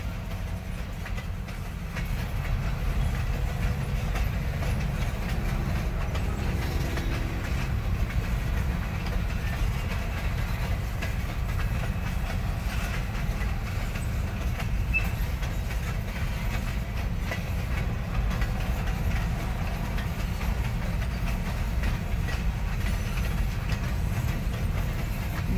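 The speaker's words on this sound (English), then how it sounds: "Three awesome trains today." Trains pass on a railroad, a continuous low rumble with clattering wheels that stays steady and close for the whole stretch, with no voices.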